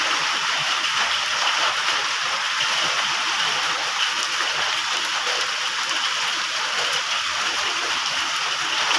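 Heavy rain pours down steadily in a dense, continuous hiss with no break, filling the whole scene at close range and with no talk over it.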